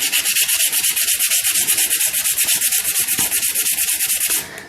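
Continuous rhythmic rubbing as rust is scrubbed off a chrome-plated motorcycle part with a coarse abrasive, steady brisk strokes, close and loud throughout, stopping just at the end.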